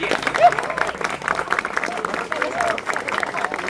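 Audience applause at a student workshop, a steady patter of clapping mixed with crowd murmur and voices, moderately loud and continuous.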